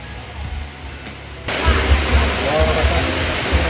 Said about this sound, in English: In Southeast Asia, it's common for heavy rain to come out of nowhere.